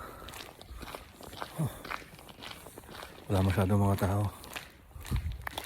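Footsteps on an outdoor street in Germany in the dark early morning sound as a steady walking rhythm under someone talking close by.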